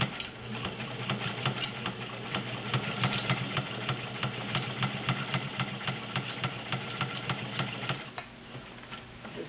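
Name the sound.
vintage White model 530 sewing machine stitching five layers of denim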